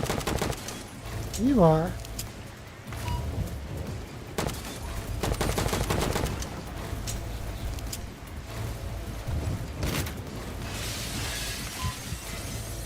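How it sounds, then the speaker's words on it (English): Enemy gunfire in a sci-fi first-person shooter RPG, a steady stream of sharp shots and impacts aimed at the player, close and continuous throughout, with someone talking briefly over the barrage. "You're shooting at me."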